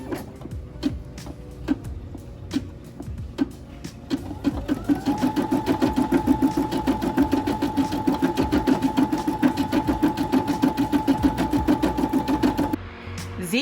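A Brother SE6 embroidery machine stitching a design, starting after a few scattered clicks and running at a fast, even needle rhythm with a steady mechanical whine before stopping abruptly.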